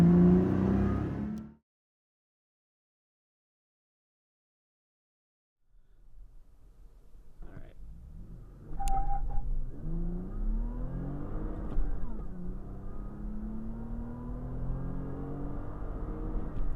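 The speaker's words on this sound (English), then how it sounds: "and let's get into the fun driving." A supercharged third-generation Toyota Tacoma with a Magnuson supercharger pulls away and accelerates, its engine rising in pitch with a faint supercharger whine after a brief opening burst of noise and a few seconds of silence.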